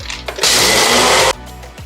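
A Ninja blender grinds Oreo O's cereal into crumbs in a single loud, steady, close whir lasting about a second, starting and stopping abruptly with quieter background noise before and after.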